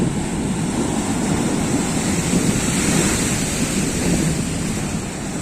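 Rough, storm-whipped sea surf pounds Shankarpur beach under light rain, a loud continuous roar of breaking waves with wind buffeting the microphone throughout.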